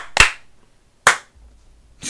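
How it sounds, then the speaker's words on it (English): Two sharp, unison claps from a small group of people, the second about a second after the first, each loud and crisp with silence between, and a third clap beginning at the very end. "And then if we can clap all together."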